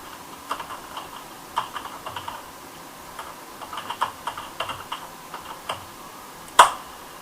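Faint keystrokes on a computer keyboard while writing ActionScript 3.0 code, scattered light clicks at an irregular pace over low background hiss, ending with one sharper, louder click.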